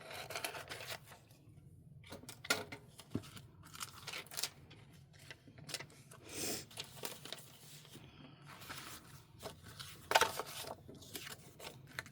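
Scissors snipping through a sticker sheet at close range, a run of short crisp cuts and rustles over a quiet room.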